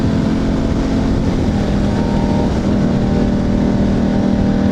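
A 2009 Buell 1125R motorcycle cruising on a freeway at about 80 mph and 5,000 RPM: a constant, loud, close engine drone blended with dense wind rush, steady throughout with no breaks.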